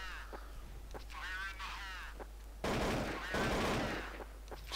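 Gunfire from a competitive shooter match between Romania and Bosnia rings out in a burst of loud sharp shots at mid-clip, alternating with a commentator's voice.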